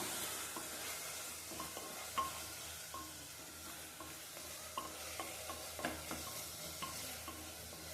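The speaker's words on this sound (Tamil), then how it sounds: "இந்த காயெல்லாம் எண்ணெயிலே நல்லா வதங்கணும்" Chopped vegetables and tomatoes sauté in oil in a pan with a steady, close sizzle, broken by repeated scraping taps as a utensil stirs them.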